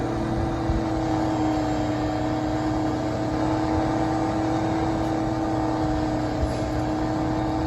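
A truck in a PC farming video game rolls through town at about 70, its engine producing a steady, continuous drone with a constant hum and no pauses, loud and close, with no talking over it.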